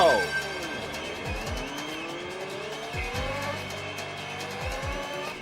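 Race car in the video game OutRun 2 SP on PS2 pulling away from the start, a loud continuous engine roar with rising gear-shift sweeps and repeated low downshift drops, game music layered underneath.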